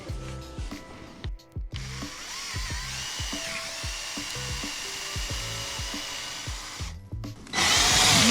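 Budget drill boring into wood with a depth stop, a high whining motor with a grinding bite into the timber, opening and ending with rhythmic knocks and a loud rush at the close.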